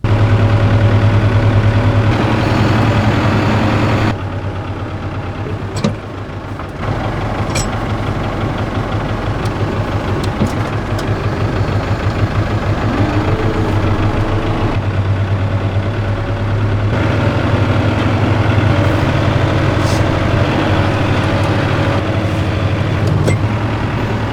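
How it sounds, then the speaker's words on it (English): A loud, close diesel tractor engine idles steadily with a deep rumbling throb, its pitch and loudness shifting slightly now and then. "let's get the big tractor and get this hay bale put in that wash"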